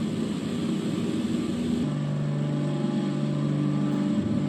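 Airplane taking off from London City Airport in the evening in a flight simulator: a steady, loud engine roar with a steady tonal hum that shifts in pitch partway through, continuous with no voices.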